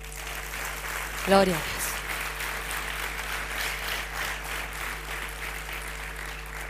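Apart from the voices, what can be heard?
audience applauding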